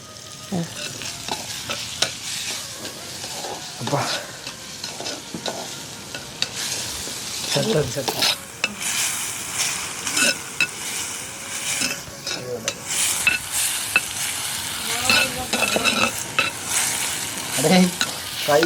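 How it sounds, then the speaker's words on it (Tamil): Food frying and being stirred in homemade coconut oil for a dried-fish sambol, with steady sizzling and repeated scraping and stirring clatter throughout, close and fairly loud, no talk. "பொறிக்கிறேன் பாருங்க"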